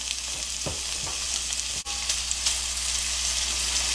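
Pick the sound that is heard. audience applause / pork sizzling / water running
pork sizzling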